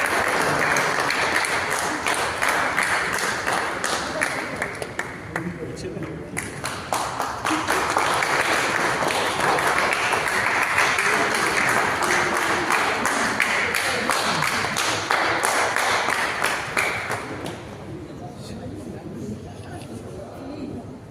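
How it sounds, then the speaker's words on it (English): Audience applause fills the hall at the Hyundai Creta EV launch event, loud dense clapping sustained for around seventeen seconds with a brief dip midway, then fading into quieter room noise and voices. "a big hand and a big applause to Hyundai Toyota Electric and the speaker"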